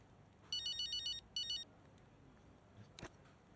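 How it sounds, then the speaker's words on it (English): Phone ringtone from the F1 25 racing game: two bursts of a bright electronic ring pattern, the first longer, then a pause followed by faint clicks and a brief rustle, moderately quiet with no voices. "There's the phone. I was waiting for it to ring."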